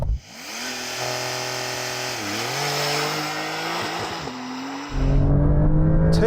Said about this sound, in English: I'm going to set a baseline now with just me driving.